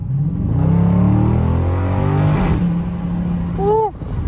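A 2021 Dodge Charger Scat Pack Widebody accelerates hard, its engine note rising loud and close through the gears with a strong roaring pull and a brief shift gap. A short high whistle or squeal sounds near the end.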